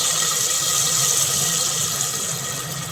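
Rice-soaking water poured into a pot of rice and spices for orange pulao, a loud continuous hissing splash with a bright steady wash, alone with no talk.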